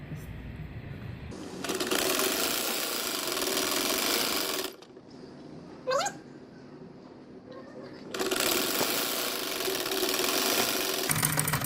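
A sewing machine stitches along folded sleeve fabric in steady whirring runs that start, pause for a few seconds with a brief squeak, then resume, close and loud.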